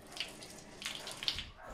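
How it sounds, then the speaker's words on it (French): A weak shower in a cheap apartment bathroom barely trickling, giving soft, faint splashing and hissing water with a few small bursts, close by and alone. "La douche coule à peine."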